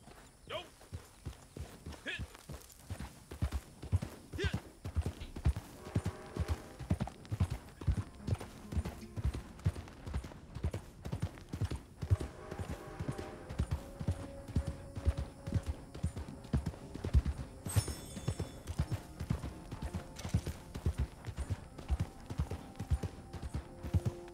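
Horse hooves clip-clopping in a steady, even rhythm while riding in Red Dead Redemption II Online, continuous and fairly close, with voices talking intermittently over the hoofbeats.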